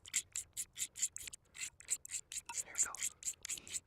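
A knife blade scrapes shavings off a magnesium block in quick, rhythmic rasping strokes, close and fairly faint, with a few words spoken softly partway through.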